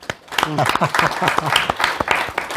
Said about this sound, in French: Sam que je demande encore d'applaudir plus fortement.